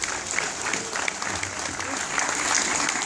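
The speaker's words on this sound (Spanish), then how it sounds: "Fuerte, fuerte el aplauso, vamos." Brisk crowd applause at a Star Wars fan gathering in Argentina, continuous dense clapping for a few seconds with a voice under it.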